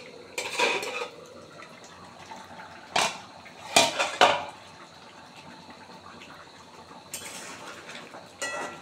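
A metal pot lid clatters in a kitchen: a few scattered clanks and scrapes separated by quiet stretches, near and moderately loud, with no speech.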